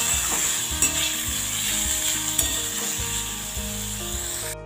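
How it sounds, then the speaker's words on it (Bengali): Steady loud sizzling of figs frying in a pan for a vegetarian moong dal dish, with ginger paste being stirred in, occasional scraping strokes of a spoon over the continuous hiss. "ডুমুরটা দিয়ে কিছুক্ষণ ভেজে নিয়েছি, এবার আমি একটু আদা বাটা দিই, ভালো করে মিশিয়ে দেবো।"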